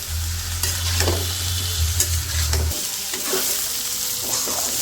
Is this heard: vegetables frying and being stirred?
yes